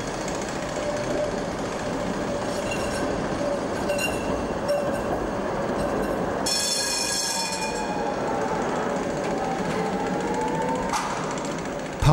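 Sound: Tatra tram passing

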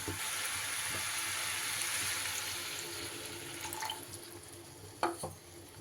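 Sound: water poured into a pan of broccoli curry

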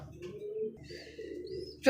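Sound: pigeons cooing

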